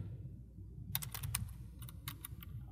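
Fingers type on a computer keyboard in short bursts of crisp clicking keystrokes over a low room hum, close but quiet, with no talking.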